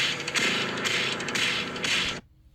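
Eerie soundtrack excerpt from the horror film The Entity, a dense, loud wash of metallic, mechanical-sounding tones with clanking rhythmic pulses that runs steadily for about two seconds, then cuts off abruptly to near silence.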